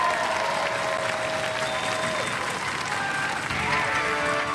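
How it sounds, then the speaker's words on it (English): Sustained audience applause and crowd noise for a combat robot team at a televised robot fighting competition, loud and continuous throughout, with a presenter's voice carrying over the clapping. "Ladies and gentlemen, give them a round of applause"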